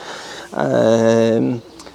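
One drawn-out, nearby pigeon coo, a low hum lasting about a second, with faint background noise around it.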